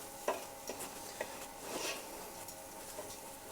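Rice being stirred in a hot pan, a soft steady sizzle with occasional scraping taps from the spoon, close up and without voices.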